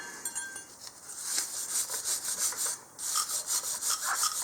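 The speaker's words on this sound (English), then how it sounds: "you want to take a brush, wire brush, and just clean this out a little bit, or clean the carrier off" A wire brush scrubbed back and forth over a corroded rear brake caliper carrier on a 2017 Nissan Rogue Sport, giving close, harsh rhythmic scratching strokes with a brief pause midway.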